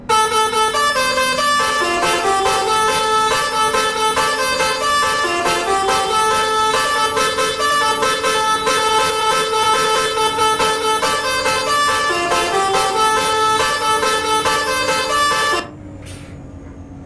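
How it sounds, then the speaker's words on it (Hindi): A luxury bus's musical multi-tone horn in Euro Truck Simulator 2, driving in Iran, plays a long, loud, melodic honking tune for about fifteen seconds before cutting off abruptly. "हम लोग हॉर्न के मजे लेते लेते जाएंगे।"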